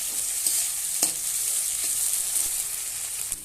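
Tomatoes go into onions already frying in oil, giving a steady close sizzle broken by scattered scraping and knocking of a spatula stirring the pan.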